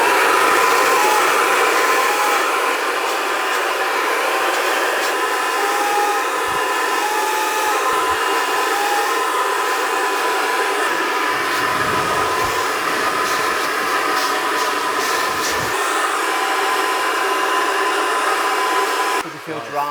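Hair dryer runs in a steady, loud, close whoosh while blow drying freshly cut short hair, continuous throughout with faint handling bumps and a brief cutoff at the end.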